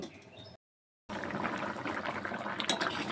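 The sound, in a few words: fish curry broth boiling in pot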